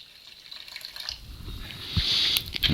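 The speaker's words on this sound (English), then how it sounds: "I'm going to start out with the vinegar. And we're going to pour this until we come to 6 ounces." Vinegar poured from a bottle into a container for cleaning lead from a gun barrel, a steady liquid trickle that grows louder and splashier toward the end, close by and alone.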